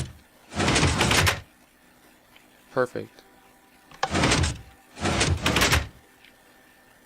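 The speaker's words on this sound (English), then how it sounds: "Now that door should open and close." A redstone-powered door in Minecraft opening and closing, with three loud mechanical whooshing bursts of about a second each; someone speaks briefly between them.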